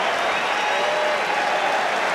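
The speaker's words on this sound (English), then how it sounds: "Applause for Jonathan Joseph, who takes his lead, having scored a hat-trick." Stadium crowd applauding at a 2017 Six Nations rugby match between England and Scotland, a dense, steady wash of clapping filling the whole stretch with no talk on top.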